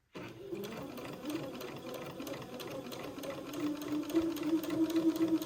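A sewing machine running at a steady, moderate pace while stitching tiny seams along a raglan sleeve. The mechanical whir is close and continuous, with a regular needle clatter throughout and no talking over it.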